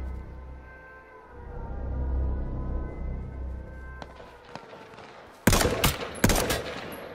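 Gunfire in the H1Z1 video game, a quick burst of sharp shots after a stretch of low rumbling game ambience, followed by another short volley, fairly loud.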